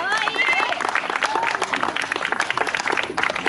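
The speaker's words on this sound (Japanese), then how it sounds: "もう一度拍手お願いします" An audience at an outdoor full-moon festival applauds a dance performance, with steady dense clapping and scattered cheers throughout, loud and close.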